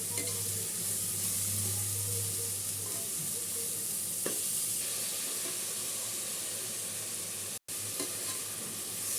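Minced mutton keema with peas and coriander frying in a pan, a steady close sizzle with occasional scraping stirs and a brief sharp break near the end.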